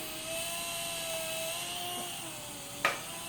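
Small toy RC helicopter, a Syma S107H or Sky Rover Vigilant, flying with a steady high-pitched rotor and motor whine held close, ending in a sharp brief knock near the end, with no talk.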